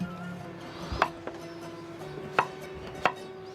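A knife chops root vegetables on a board for borscht: four sharp, separate chops at uneven intervals, close and clear over a quiet low kitchen hum, with no talking.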